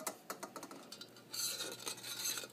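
A spoon stirs a sugar mixture in a pot for Vietnamese steamed rice cakes, giving soft scraping and light clinks in an uneven rhythm that turns to a steadier, brighter rasp partway through, with no one speaking.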